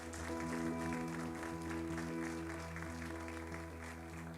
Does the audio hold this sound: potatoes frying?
no